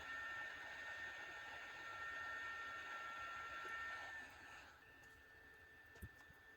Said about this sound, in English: Desolder the female USB connector on the boost converter module with a hot air gun at a temperature of 360 degrees Celsius.